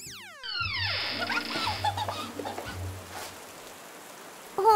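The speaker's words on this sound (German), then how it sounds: "Oh, es regnet immer noch." Rain falling in a children's doll play scene, a steady hiss of drops and splatter running throughout, with tonal sounds and bursts of other noise over the top and a louder thump at the very end.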